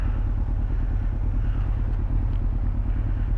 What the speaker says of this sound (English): Oh, there's another motorcyclist.